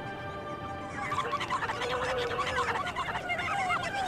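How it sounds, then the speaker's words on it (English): Chickens clucking in the video game The Legend of Zelda: Twilight Princess, several birds chattering steadily over a busy in-game town ambience, moderately loud with no talk. "And yes, there are more of the disgusting poop chickens."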